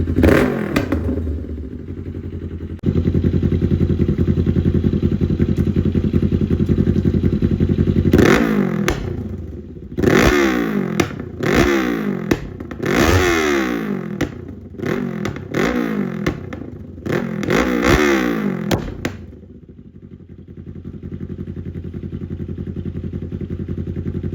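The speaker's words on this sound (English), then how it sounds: "I'm about to go see how loud this thing is." A 2024 Kawasaki Ninja 500 with an aftermarket full exhaust idles with a deep, loud rumble, then revs hard in a series of sharp, aggressive bursts before settling back to a steady idle.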